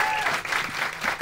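A studio audience at a comedy bingo championship show claps briefly, a short dense burst of applause heard at moderate loudness with no clear talk over it.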